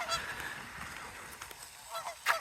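Canada geese honk harshly while fighting over turf outdoors, a run of nasal, rasping calls at moderate distance with a sharper, louder honk near the end.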